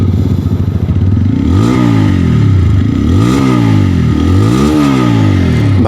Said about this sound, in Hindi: तो कैसी इसके एग्जॉस्ट साउंड है चलिए वो भी मैं आप लोगों को एक बार सुना देता हूँ।